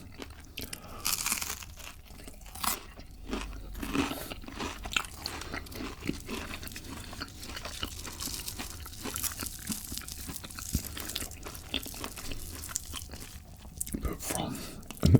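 Crunchy, close-up chewing and biting of a fried festive feast, including Cantonese-style chicken, with steady crisp crunches and soft mouth sounds throughout and faint breathy vocal noise in places.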